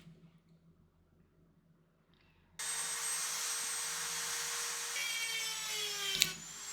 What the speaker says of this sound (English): all I really have is a Dremel with some carving bits. So that's all I'm using